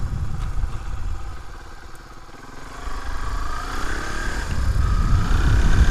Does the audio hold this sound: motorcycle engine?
yes